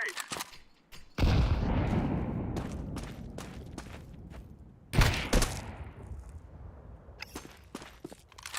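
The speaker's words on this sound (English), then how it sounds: "I'm throwing a grenade" Grenade going off in Rainbow Six: a sudden loud blast after a second of quiet, with a decaying rumble, then a second burst near the five-second mark among scattered gunfire and footsteps.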